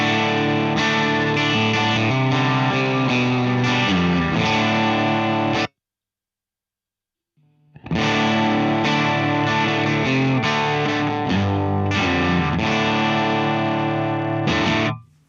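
An electric guitar played through a Laney LA-Studio amp rings out in two distorted, chorus-tinged passages of strummed chords separated by a brief silence, loud and close with no talking.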